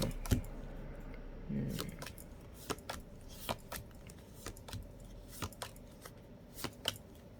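Wooden tarot cards from a cat-themed deck being handled and shuffled, giving a string of light, dry clicks and taps at an irregular pace, close and fairly quiet, with no talking.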